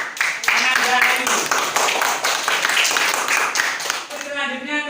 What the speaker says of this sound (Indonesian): Beri tepuk aplaus kepada